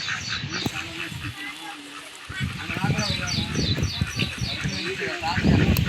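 Ducks quacking in a noisy repeated chorus nearby, with people talking over the calls.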